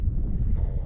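Strong wind of about 15 mph or more buffets the microphone in a steady, close, low rumble while an angler wades fishing in the Land Cut, with no talking.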